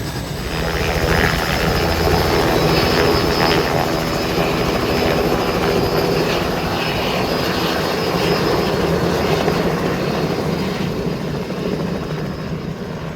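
A helicopter roars steadily and loudly close overhead on Gili Trawangan island, Indonesia, its rotor and engine drone filling the whole stretch without a break.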